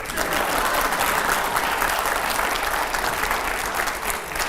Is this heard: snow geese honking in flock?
no